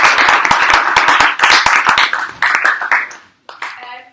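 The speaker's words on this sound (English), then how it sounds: "I'd like to ask for an applause for our three actors" A small audience gives a round of applause for three actors after a performance. Sharp, distinct individual claps sound close by, thinning out and fading toward the end, with a voice coming in as they stop.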